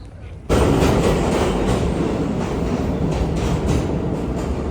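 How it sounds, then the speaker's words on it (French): Loud, continuous rumble and rattle of a New York subway train running close by, a dense roar with faint rhythmic clacking throughout. "super impressionnée par le métro à New York parce que je trouve qu'il fait vraiment énormément de bruit"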